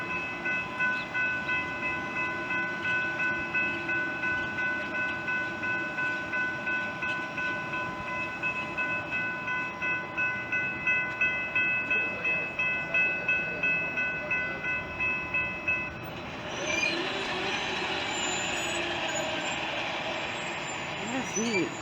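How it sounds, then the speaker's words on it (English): A train pulling to a stop at a rail crossing in Grapevine, Texas, with steady horn-like tones held for about sixteen seconds, a rhythmic low clatter of wheels underneath, then a broad hiss of air brakes releasing near the end. "You need to see the train stop."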